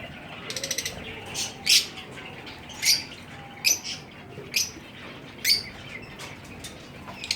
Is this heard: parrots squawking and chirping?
yes